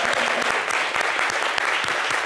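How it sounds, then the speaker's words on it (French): Dense audience applause in a television studio after a musical performance, loud and continuous through the short stretch with no voices over it. "Merci d'applaudir."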